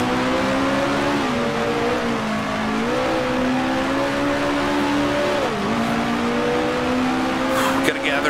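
A 1966 Formula One race car in Grand Prix Legends, on the South African Grand Prix circuit, drones with a steady engine note that dips briefly under braking before recovering, close and continuous beneath ongoing commentary.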